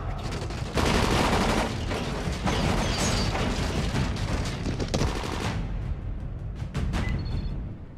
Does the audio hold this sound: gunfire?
yes